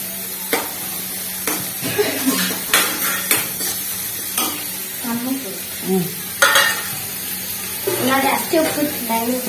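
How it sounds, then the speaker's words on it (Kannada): Onions fry in a pan in a home kitchen, a steady sizzle broken by repeated scraping stirs, while people talk nearby. "ನಾನು ಈಗ ಉಳ್ಳಾಗಡ್ಡಿ ಚೆನ್ನಾಗಿ ಫ್ರೈ ಮಾಡ್ಕೋಬೇಕು"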